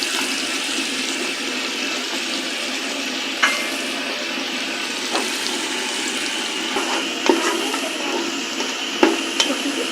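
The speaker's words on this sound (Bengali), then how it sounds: "পেঁয়াজগুলিকে আমরা ব্রাউন হওয়া পর্যন্ত অপেক্ষা করব" Sliced onions fry in hot oil in a home kitchen pan for pulao, giving a steady close hiss and sizzle with a few soft stirring clicks and no talk.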